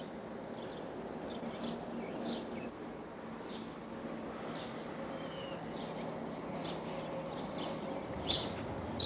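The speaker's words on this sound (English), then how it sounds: "You hear the birds up in the trees." Birds chirp and call up in the trees over a quiet, flooded residential street, with scattered short tweets at moderate distance above a low hush.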